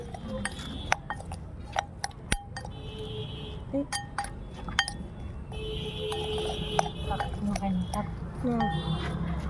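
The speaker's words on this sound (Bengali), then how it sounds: "সব দিয়ে দেবো, দিয়ে মাখাবো ভালো করে, রান্না বাটির মতো মাখাতে হবে।" Food being mixed by hand in a bowl with kasundi, cumin and chilli, with repeated light clinks and taps of glass and utensils against the dish over a steady background murmur.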